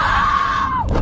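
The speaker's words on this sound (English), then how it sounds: "He's screaming his heart out." A boy on a slingshot ride lets out a long, loud, sustained scream that holds steady before dropping and breaking off near the end.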